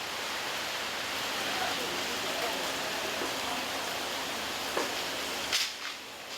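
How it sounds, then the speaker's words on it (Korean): Steady rain shower hissing broadly over a fish market at Jeodong harbor on Ulleungdo, a constant wash of falling water with a few faint knocks and clatters near the end. "소나기가 내리는 가운데"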